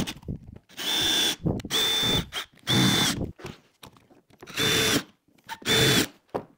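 A Castle pocket hole machine bores joints for a wooden window bench seat, five loud whining cutting bursts of about a second each with a high squealing tone, separated by short quiet gaps and clicks.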